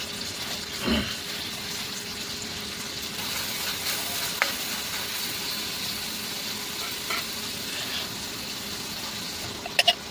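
Onions and cumin sizzle steadily in a pan, a continuous close frying hiss with a few soft stirring knocks and clinks, cooked in a truck cab.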